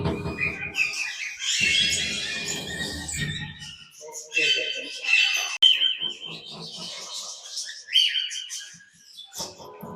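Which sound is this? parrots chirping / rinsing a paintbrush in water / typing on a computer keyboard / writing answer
parrots chirping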